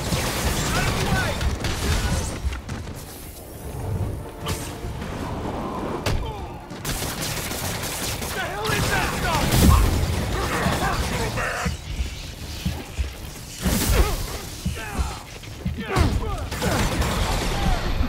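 Repeated bursts of gunfire and impacts during combat in Spider-Man Remastered, loud and chaotic across the whole stretch, mixed with thuds, crashes and game character voices.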